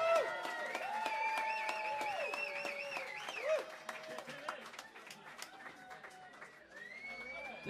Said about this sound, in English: give one more round of applause to Sarah Isen and Tammy Hall